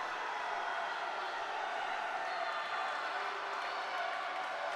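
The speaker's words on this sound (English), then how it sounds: "Crowd starting to heat up." Spectators cheering at a college swimming meet, a dense, even roar of crowd noise filling the whole stretch without letting up.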